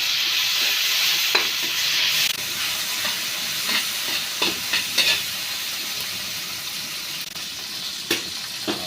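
Chopped onion and tomato sauté in a hot pan, giving a steady soft sizzle broken by scattered scraping and stirring clicks from a utensil, close and moderately quiet with no talking.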